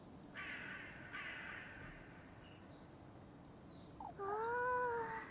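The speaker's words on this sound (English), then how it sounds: "Oh, there's so many crows." Many crows caw loudly in a cozy cottage farming video game, several harsh calls overlapping in a flock that grows louder and nearer toward the end, with no talk.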